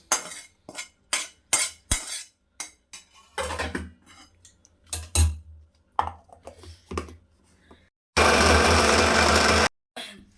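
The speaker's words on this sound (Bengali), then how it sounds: "তো আমি একটু মিক্সিতে ভালো করে বেটে নিচ্ছি।" A mixer grinder grinds cooked ridge gourd for a South Indian style chutney, with scattered clicks and knocks followed by one loud, steady grinding burst lasting about a second and a half near the end.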